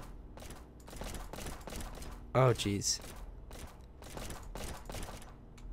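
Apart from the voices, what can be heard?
gunfire in video game Flashing Lights police simulator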